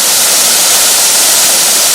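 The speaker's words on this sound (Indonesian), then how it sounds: "air terjun." A waterfall at a tourist site roars in a dense, steady wash of rushing water, loud and unbroken throughout with no voices.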